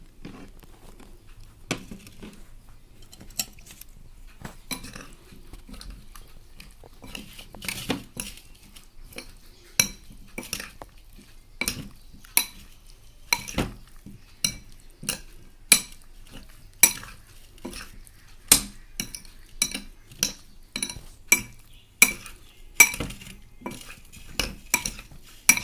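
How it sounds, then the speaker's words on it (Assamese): Spoon clinking and scraping against a bowl while lemon pickle is stirred together with cooled oil, a steady series of sharp metallic taps with soft wet mixing between them, close and alone without voices. "তেলখিনি ঠাণ্ডা হোৱাৰ পিছত ঢালি দিম এতিয়া গোটেইখিনি মিক্স কৰি খানি লম"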